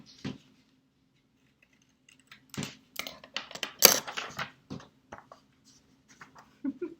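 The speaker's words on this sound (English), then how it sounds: "But I'm going to cut mine out on this fish." Scissors snipping a mouth into a paper fish craft, a scattered series of short crisp cuts and paper rustles at close range, with faint talk between cuts.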